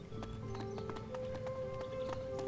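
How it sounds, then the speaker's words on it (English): Donkey hooves clop in a steady rhythm in the video game Masquerada: Songs and Shadows, moderately loud over an ambient tonal background. "Donkey!"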